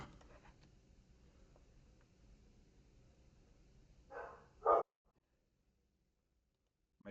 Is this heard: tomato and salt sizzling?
no